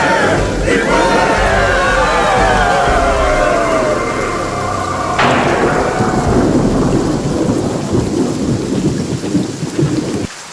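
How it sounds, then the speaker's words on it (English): Heavy rain pours steadily while thunder rumbles and a sharp crack strikes midway, a loud, spooky cartoon thunderstorm effect that fills the whole stretch without a break. "Is it raining in there? It's raining out here, too."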